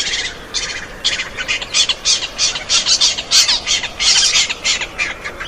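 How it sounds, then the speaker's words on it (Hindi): Birds calling at night: a rapid series of sharp, squawking chirps, loud and close, repeating in quick bursts over faint background noise. "रात गहरी होती है, हवा चलती है, कोई चहचहाहट सुनाई देती है"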